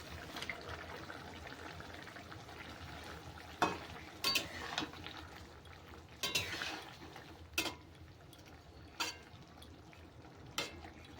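Fried mourala fish and potatoes go into a pan with a green tomato gravy and get stirred, giving a soft steady sizzle broken by several distinct scraping and clattering stirs of a utensil against the pan.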